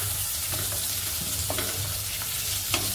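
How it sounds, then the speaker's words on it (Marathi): Ginger-garlic paste fries in hot oil in a pan, a steady close sizzle and crackle with light stirring scrapes throughout, no talking. "आपल्याला आलं लसूण पेस्ट आहे ती परतून घ्यायची आहे"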